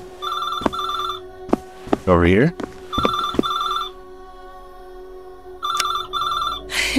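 In Scholar's Mate, a horror game set in a dark building, a telephone trills in repeated double bursts, loud and close, while someone speaks briefly between rings and a few sharp clicks and a rising swoosh cut in.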